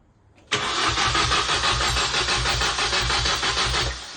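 A rebuilt Mini Cooper S R52 supercharged engine cranks and fires up for the first time, then settles into a loud, steady running idle close by, with no talk over it.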